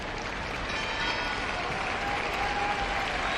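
Crowd applause at a 2012 Armed Forces Day ceremony in Valladolid's Plaza Mayor, honouring families of fallen soldiers: dense, sustained clapping from a large outdoor gathering, steady and even throughout.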